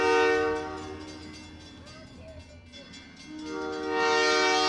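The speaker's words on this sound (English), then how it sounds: "there's the train." A train with a loud, sustained horn passes in a Santa's holiday parade. The horn blares at the start, dips under rumbling rail noise in the middle and swells again at the end, close and dominant.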